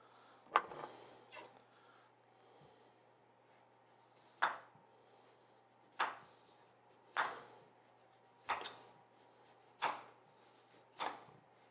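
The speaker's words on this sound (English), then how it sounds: "I'm going to cut it into nice slabs or big thick slices" A knife cuts plant-based food into thick slabs on a board, making seven or so distinct, sharp chops spaced a second or two apart against a quiet background with no voices.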